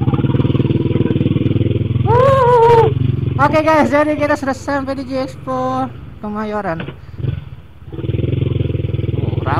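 Many motorcycles at the G-Expo Kemayoran during Pekan Raya Jakarta give off a steady low engine drone with occasional clatter, heard throughout beneath loud, close talking.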